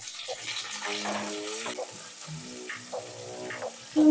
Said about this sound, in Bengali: এবারে এর মধ্যে আলুটা ভালো করে লাল করে ভেজে নেওয়ার পর আমি ক্যাপসিকামটা দিয়ে আর বেশি ভাজবো না